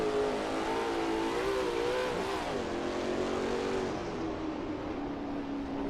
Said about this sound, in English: great downshift sound